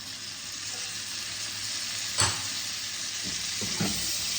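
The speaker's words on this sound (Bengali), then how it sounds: "এবার আমি কতগুলো কারি পাতা দিয়ে দিলাম।" Curry leaves fry for poha pulao in a softly steady sizzle, quiet and close, with a couple of brief stirring scrapes and clinks partway through and no voices.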